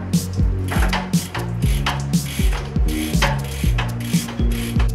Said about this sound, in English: I like to use the wet rag on the chain like this